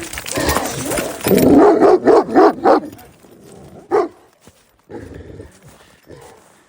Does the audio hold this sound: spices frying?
no